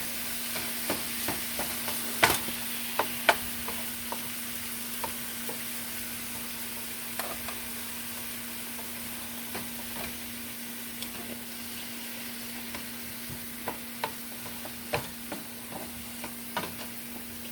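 Ground meat for sloppy joes frying in a hot pan, a steady low sizzle with scattered clicks and scrapes as the meat is stirred and broken up, fairly quiet and continuous with no talking.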